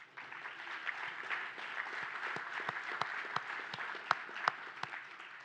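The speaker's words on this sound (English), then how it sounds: "let's give Pete a round of applause" An audience at the National World War II Museum applauds for Pete Crean, a steady wash of many hands clapping at moderate distance, with a few louder individual claps standing out, and no one speaking.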